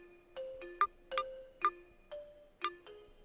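A bright, chirpy cell phone ringtone rings out in a cartoon animation. It plays as a quick, evenly spaced run of short melodic beeps, clear and alone with no talk over it.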